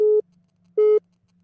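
A telephone busy signal from a failed phone connection: two loud, steady electronic tones of equal length separated by a short gap, clean and repetitive with a faint hum between beeps.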